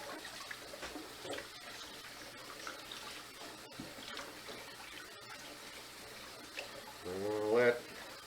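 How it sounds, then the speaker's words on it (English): Running tap water splashes steadily into a sink as polk salet greens are rinsed, a soft continuous wash with small splashes, and a brief voice rises near the end. "keep on washing these, washing them real good"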